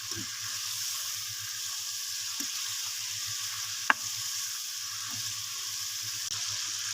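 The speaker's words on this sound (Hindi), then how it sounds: "जब हल्का सा फ्राई कर लेना तो चिकन में ना थोड़ी सी क्रिस्पनेस आ जाती है" Chicken fries lightly in a pan for white chicken karahi, a steady soft sizzle with a low hum beneath and one sharp click of a utensil midway.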